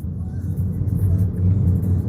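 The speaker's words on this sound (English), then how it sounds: "That truck is new." A new truck's engine rumbling steadily at idle, a low continuous drone heard nearby with no clear voices.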